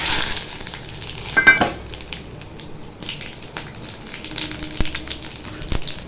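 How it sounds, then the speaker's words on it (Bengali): Cumin, bay leaf, dried chilli and whole garam masala dropped into hot oil after frying, crackling in a moderate, uneven sizzle with occasional sharp pops and stirring clinks, no voices. "তেলে দিয়ে দেবো জিরে, তেজপাতা, শুকনো লঙ্কা আর গোটা গরম মশলা।"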